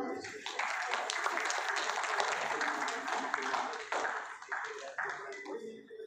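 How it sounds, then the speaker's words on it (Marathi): A crowd of guests claps together at a sangeet wedding celebration, a steady dense patter of hands that rises and fades over several seconds. An anchor's voice is heard at moments. "आपण टाळ्या वाजवूया जरा."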